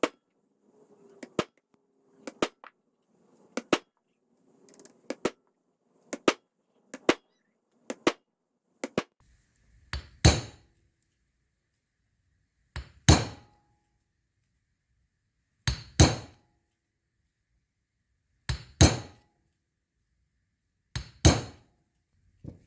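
A new bearing race is hammered into the front hub of a 1984 Mercedes 300SD W126, using the old race as a driver: a close run of sharp metallic strikes, quick light taps at first, then slower, heavier blows spaced a few seconds apart.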